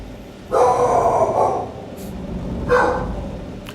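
A dog in the video game Skyrim gives two separate barks, a longer gruff bark and then a shorter one, each fairly close and loud above a low steady game background.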